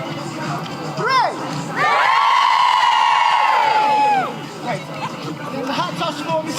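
A crowd of nursing and midwifery graduates lets out a big, loud, sustained cheer for a group photo at an autumn graduation ceremony, with whoops and shouts over nearby chatter before and after.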